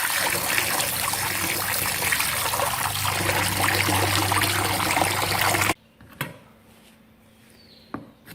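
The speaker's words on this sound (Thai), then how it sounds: "แล้วล้างน้ำนะคะ ขิง ล้างเศษผงต่างๆสิ่งที่สกปรกต่างๆออกให้หมดเลยค่ะ" Water trickles and splashes steadily over fresh unpeeled ginger as it is rinsed clean, loud and close, then cuts off abruptly into near silence with a couple of faint knocks.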